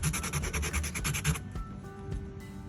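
Sandpaper rubbing factory stubs off an RC car part makes a quick series of close, rhythmic scratchy strokes that stop after about a second and a half, followed by quieter handling noises.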